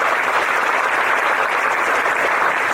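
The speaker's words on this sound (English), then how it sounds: "Give yourself a warm round of applause for coming here." Loud, dense applause from a seminar audience fills the room, a continuous crackle of many hands clapping at once throughout.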